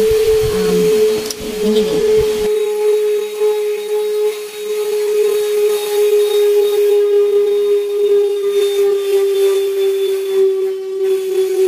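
A handheld portable dust mite vacuum cleaner runs with a steady high-pitched motor whine. A brief rustle and a short spoken word come at the start, then the vacuum hums on alone, loud and constant.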